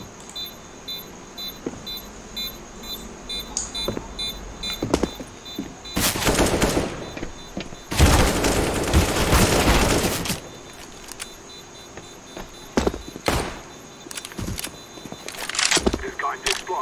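Gunfire in Counter-Strike: Global Offensive, with scattered single shots, then two loud sustained bursts of rapid automatic fire followed by more sporadic cracks, close and sharp, with a player talking now and then.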